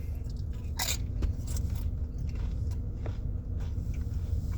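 Crunching of Doritos Nacho Cheese tortilla chips being chewed close up, with crisp bites and steady crackling mastication throughout, no talking.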